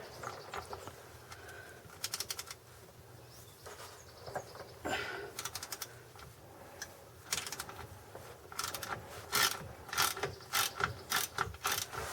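A hand ratchet loosens the drain plug on a Jeep transfer case, giving several bursts of quick close clicking separated by quieter pauses, with faint background noise.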